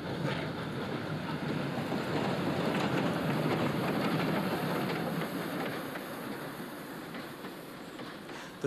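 A steam locomotive train rumbles past steadily, wheels clattering over the rails in a continuous roar that swells and then slowly fades.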